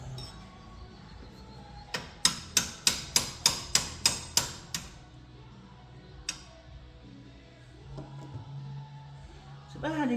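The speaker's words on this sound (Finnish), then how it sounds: "Ettekö sitä vähän paukuttaa?" About ten sharp metallic hammer blows on a car part of a barn-find Pontiac with a 454 engine land in quick, even succession, followed by a single strike and quieter clanking.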